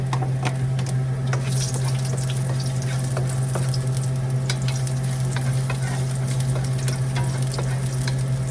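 Onion and garlic sizzle and crackle steadily in a hot pan while being stir-fried, with a constant loud frying hiss, a low steady hum underneath and occasional clicks of a utensil against the pan.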